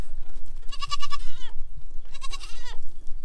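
Two loud, wavering goat bleats ring out close by, one after the other, with a short pause between them.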